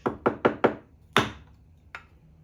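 Chisel struck with sharp knocks into a knife-edge groove cut in wood while making seat joints: four quick evenly spaced blows, a louder fifth after a pause, then one lighter tap, close and without talk.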